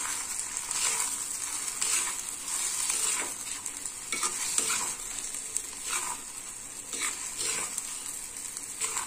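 Egg and goat brain stirred together with turmeric in a hot frying pan, a continuous sizzle broken by repeated scraping strokes of a spatula at a steady, unhurried rhythm, close by with no voices.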